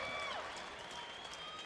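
A crowd at a local fight night applauds after the bout, a steady faint patter of clapping with some high tones over it.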